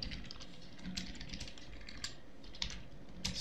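Computer keyboard keys clatter in an irregular stream of soft clicks while a comment is typed into C++ code, with a few sharper, louder keystrokes standing out. No one speaks.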